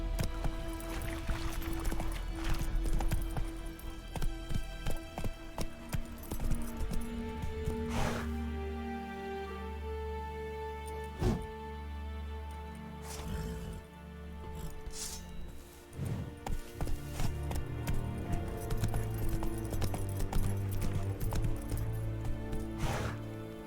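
Geralt's horse Roach clops along in The Witcher 3, rhythmic hooves under game music and ambient sound, with a few sharp thuds scattered through.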